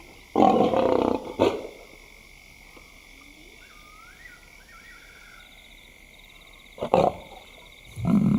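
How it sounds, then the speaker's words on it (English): A lioness in the African bush gives deep, loud calls to her cubs: one long call near the start, then two shorter calls close to the end, with quiet ambience and faint birdsong in between. "the youngsters have heard her call"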